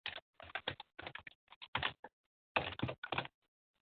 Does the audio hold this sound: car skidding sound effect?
no